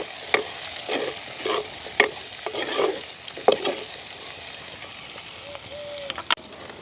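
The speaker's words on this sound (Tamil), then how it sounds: "இப்படியே நல்ல வடிவாக நாங்கள் கலந்து விடுவோம்." Onion, green chili and garlic sauté in a pan, with brisk, repeated stirring scrapes over a steady frying sizzle that quiets toward the end.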